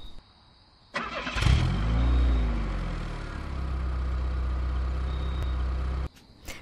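A voice imitates a car engine, cranking to a start and then settling into a steady idling rumble for about five seconds, loud and close, before cutting off abruptly.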